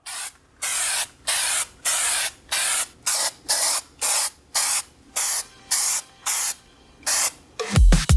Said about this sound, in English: I'm going to spray these down